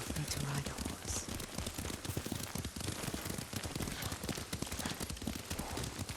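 Hooves clop steadily as a horse is ridden in Ghost of Tsushima, a rapid rhythmic patter of impacts mixed with rain-like ambient noise, continuous and fairly close.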